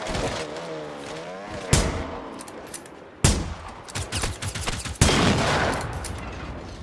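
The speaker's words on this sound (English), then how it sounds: "this shotgun that I'm using right now, this feels good" A shotgun in the video game Generation Zero fires three loud, booming blasts spaced about a second and a half apart, each trailing off into rumbling echo over a low background drone.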